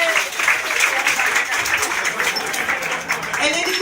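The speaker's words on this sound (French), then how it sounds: "on peut l'applaudir quand même" A comedy club audience applauds a stand-up comedian: a dense burst of clapping with murmurs and cheers mixed in, fairly close and full, with voices heard over it.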